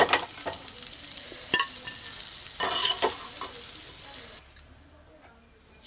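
Fried soybeans are scooped out of a hot oiled kadai, with loud crackling sizzle and repeated spatula scrapes and clacks against the pan before the frying noise drops away to near quiet.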